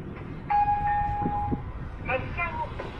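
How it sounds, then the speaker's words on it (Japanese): A Furano-Biei Norokko train rumbles in the background between Lavender Farm and Furano stations in Japan, while a chime sounds and a multilingual station announcement plays over it. "Watch out for the train."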